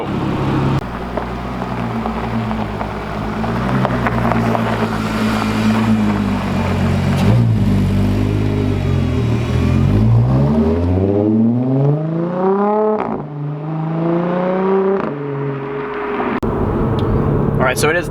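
A finished Audi car drives around town with a steady engine drone and road noise. Later it accelerates through several rising shifts, with a voice talking over parts of the drive.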